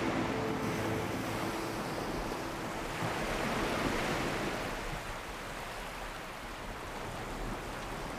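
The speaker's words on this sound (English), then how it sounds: "lolls beneath the warm sunbeams lapped by the waves of the Indian Ocean" Indian Ocean waves lapping the beach of Nosy Iranja, Madagascar, a steady broadband wash of surf rolling continuously at close range, with no voices.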